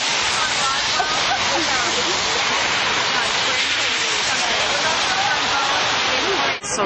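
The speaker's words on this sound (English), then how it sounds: "but it's raining" Rain falling outside near a gas station in the morning, a dense, steady hiss of broadband noise that stays loud and constant throughout, with no words spoken.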